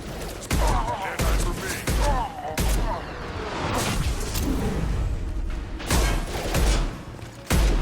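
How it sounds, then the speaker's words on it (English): Gunfire in the video game Mass Effect 2: loud bursts of shots at intervals through a battle, close, mixed with whooshes and thuds, with a voice speaking over parts of it. "I'm taking friendly fire. Oh, no, you're walking in front of my gun, Garrus."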